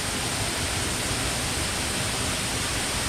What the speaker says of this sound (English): I'm gonna go behind the waterfall